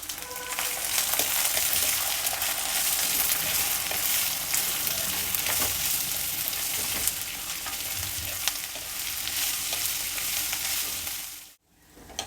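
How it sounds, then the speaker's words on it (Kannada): Onion and carrot frying in a pan, a dense steady sizzle with stirring scrapes throughout, close and fairly loud, cutting out abruptly near the end. "ಈರುಳ್ಳಿ ಕ್ಯಾರೆಟ್ ಎಲ್ಲ ಸಾಕಷ್ಟು ಫ್ರೈ ಆಗಿದೆ"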